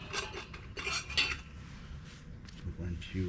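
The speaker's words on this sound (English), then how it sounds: "put our percolator together" Metal parts of a coffee percolator clink and scrape together as it is assembled on a FIREBOX camp stove, with light close-up clatter throughout.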